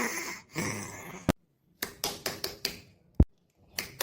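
Several sharp knocks on a door arrive in short irregular bursts, with a few louder raps standing out between quiet gaps. Muffled sounds come before the knocking starts.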